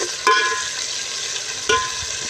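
Onions and spices frying in a pot for a mixed vegetable dish, a constant close sizzle with two sharp clinking stirs of a spoon against the metal, no talking.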